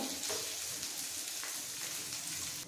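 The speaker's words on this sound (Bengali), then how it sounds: "বাকি পনিরগুলো ভেজে নেব।" Paneer cubes frying in oil for a vegetarian paneer biryani, giving a steady, dense crackling sizzle that runs close and evenly throughout with no talk over it.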